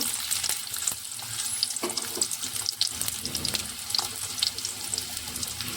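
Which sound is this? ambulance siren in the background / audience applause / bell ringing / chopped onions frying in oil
chopped onions frying in oil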